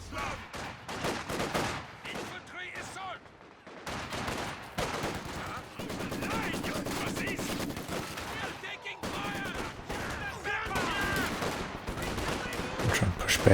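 Dueling machine guns, a German MG42 against a Soviet Maxim, chatter on a Company of Heroes 2 battlefield: continuous rapid bursts and scattered shots at middling distance for over thirteen seconds, with a commentator talking over the gunfire.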